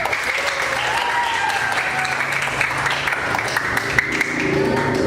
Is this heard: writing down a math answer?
no